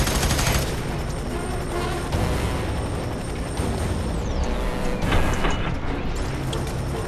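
Dense gunfire fills a FEAR 3 firefight: rapid automatic bursts and heavy blasts run continuously at close range, with a few louder impacts standing out and no talk.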